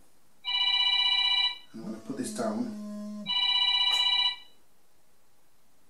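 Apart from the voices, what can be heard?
mobile phone ringing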